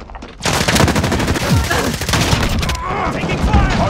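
Dense automatic gunfire in a Call of Duty match, with akimbo weapons blazing in rapid, loud overlapping bursts and heavy booms that continue for several seconds.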